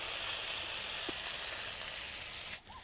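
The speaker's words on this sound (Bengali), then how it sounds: "পাতাগুলোকে একদম মুচমুচে করে ভেজে নেব।" Neem leaves frying in oil until crisp, giving a steady, close hissing sizzle that holds evenly before a brief break near the end.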